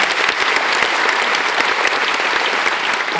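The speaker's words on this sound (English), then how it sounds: "I think that also deserves a very loud cheer and a round of applause." A large audience at an Irish citizenship ceremony in the Convention Centre Dublin claps and cheers, a dense, loud, continuous roar of applause filling the hall without a break.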